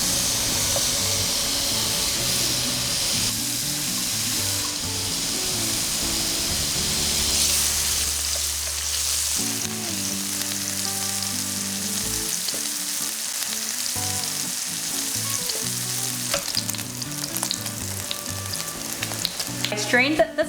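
Garlic crisps in a fry pan of olive oil with a steady, dense sizzle and crackle that lasts throughout, joined by occasional stirring scrapes. No voices.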